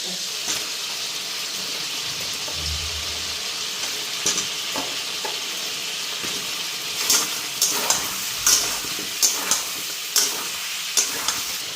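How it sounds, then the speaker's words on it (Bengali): Chicken and potatoes frying in a pan, a steady close hiss of hot oil with intermittent spatula scrapes and sharp clatters growing more frequent toward the end. "চিকেনটা এদিকে ফ্রাই হয়ে গেছে এখন এদিকে আলুগুলিও দিয়ে দিই"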